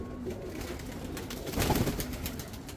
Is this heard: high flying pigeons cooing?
yes